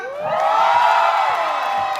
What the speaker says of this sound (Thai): ส่งเสียงกรี๊ดกันมาดังๆเลยครับ